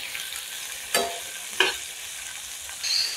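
Mixed vegetables sauté in a pan for a dal and rice appe breakfast, a soft steady sizzle broken by two sharp spatula scrapes and stirs, close up with no talking.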